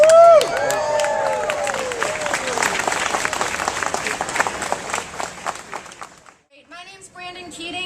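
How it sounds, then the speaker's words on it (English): A rally audience at a health care event in Richmond, Virginia, bursts into loud sustained clapping and cheering after someone speaks, then the applause thins and fades out before her voice returns. "Give yourselves a hand."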